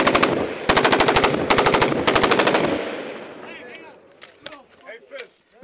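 M240B and M249 machine guns fire long rapid bursts close by at Taliban positions, dense rattling volleys for nearly three seconds before fading into scattered distant shots and shouted voices.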